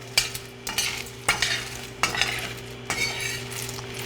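Pumpkin seeds toasting dry in a pan with no oil, stirred so they scrape and rattle against the metal in regular bursts about once a second over a faint, steady sizzle.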